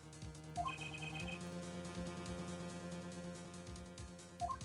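A telephone in the Apollo Justice: Ace Attorney video game rings in short repeated electronic trills over quiet background music, with a brief chime at the start and end.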